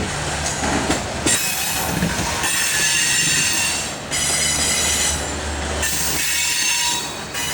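A CSX freight train hauling refrigerated boxcars rolls over a crossover near Mount Holly. The loud, close, continuous rumble of the wagons carries wheel squeal and clatter over the rail joints.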